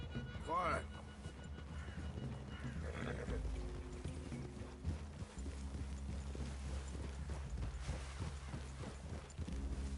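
Horses in the Red Dead Redemption 2 video game walk with steady, rhythmic hoof clip-clops at moderate distance, along with a brief whinny, under near-constant dialogue between characters.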